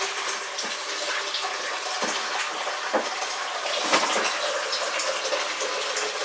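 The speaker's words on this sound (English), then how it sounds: "just clean out the yeast that's in the bottom of this fermenter" Water from a tap rushes and splashes into a homebrew wine fermenter, rinsing out yeast from the bottom; a steady, fairly loud gushing with small sloshing bursts throughout, no talking.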